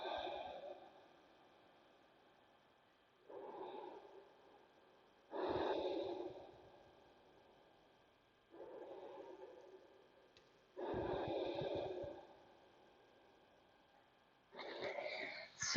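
Slow, deep yoga breaths drawn in and let out through the nose, six long breaths in a steady rhythm with quiet pauses between, close and clear.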